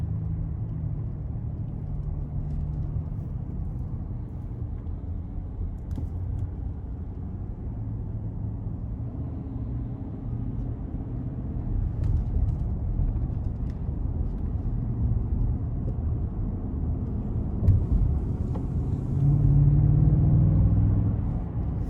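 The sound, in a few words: 2021 Ford F-150 5.0 V8 engine accelerating in sport mode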